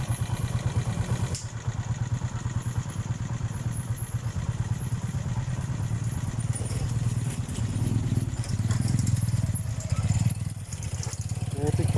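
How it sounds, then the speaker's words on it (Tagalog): Motorcycle engine on a muddy rural road, chugging and clattering at moderate distance while someone talks over it, the engine note swelling slightly toward the end as it passes. "sa likuran natin may nakamotor"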